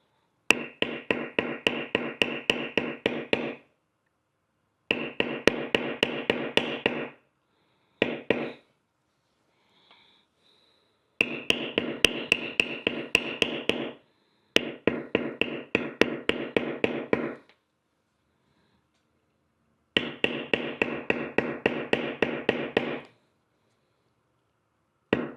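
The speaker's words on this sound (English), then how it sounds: "I'm going to bevel all around it and make sure I've got all the beveling done that I need to around it" Mallet striking a beveling tool on leather during tooling: rapid series of sharp taps in repeated bursts of about a dozen strikes, separated by brief silences, close and crisp, no talk.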